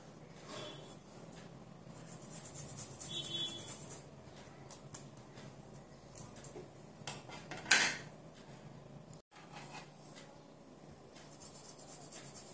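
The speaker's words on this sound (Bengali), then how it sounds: "আদা একটু গ্রেট করে দেব" Ginger is grated for chicken cutlets, making soft, uneven rubbing and scraping strokes close by. Faint kitchen clatter comes through, along with one sharper knock.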